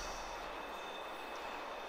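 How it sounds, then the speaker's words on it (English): A train rumbles past in the video game Destiny 2, a steady, distant rolling roar with a faint high metallic tone over it, fairly quiet and with no talking. "Remember to watch out for incoming trains"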